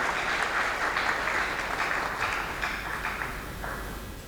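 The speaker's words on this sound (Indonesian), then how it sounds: "Mari kita berikan tepuk tangan buat Bapak-Bapak Pendeta." Sustained audience applause for pastors at a Christian businessmen's fellowship convention in Batam, a steady wash of many hands clapping that holds at an even level and tapers slightly toward the end, with no voices over it.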